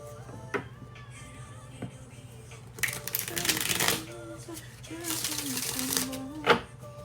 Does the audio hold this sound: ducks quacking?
no